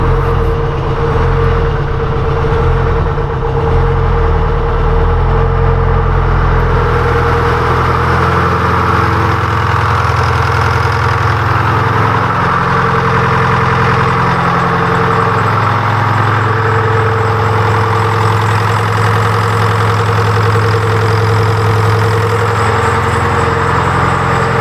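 A Detroit Diesel engine swapped into a 1995 Chevrolet Suburban idles loudly and steadily up close, a deep rumbling drone with a constant low throb throughout and no talking.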